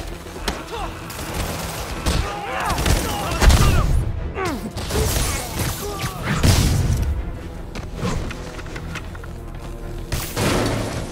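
Gunfire and impacts in Marvel's Spider-Man on PS4, scattered shots, booms and thuds mixed with game music and effects, with voices talking in between.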